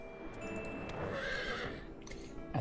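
A horse mount in Final Fantasy XIV neighs with a bright, drawn-out whinny over a steady game soundscape, with a few light clip-clop-like hoof taps and a sharper sound at the very end.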